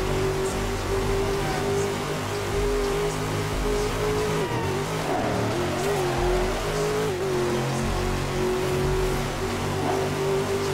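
Dodge Viper GTS engine in the video game Midnight Club 3, a steady loud drone with pitch dips and rises as it revs and shifts, mixed with continuous road and race noise throughout.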